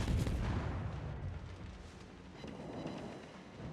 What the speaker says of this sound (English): We're going to go and just engage with guns.